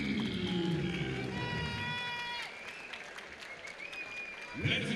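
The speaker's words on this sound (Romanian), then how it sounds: "Aplauze în sală pentru Amansio." A crowd applauds in a fight hall at a fight show event, a steady wash of clapping that carries on under the noise of the venue before swelling again near the end.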